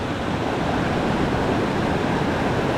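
The blue Rio Celeste river in Costa Rica, flowing near a bridge: a steady, broad rush of water heard up close, with no break or talk.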